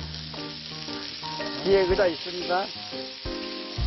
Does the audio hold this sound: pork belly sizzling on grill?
yes